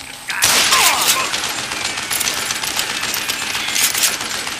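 Rapid gunfire bursts from the Western shooter Call of Juarez: Gunslinger erupt loudly and sustain as a dense, crackling barrage with sharp shots scattered throughout, no voices over it.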